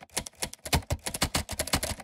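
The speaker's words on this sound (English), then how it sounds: "So we have this typewriter and computer keyboard, and then a MIDI keyboard." Typewriter and computer keyboard sounds from the Caelum Audio King Key app play as a quick, uneven run of sharp key clacks with no voices.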